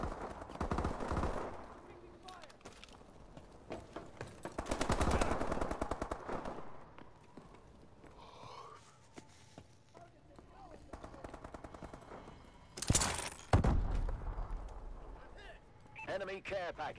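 Automatic gunfire rattles in rapid bursts during a Call of Duty Advanced Warfare match, loud and close, broken by explosions and gaps, with a player talking over the action.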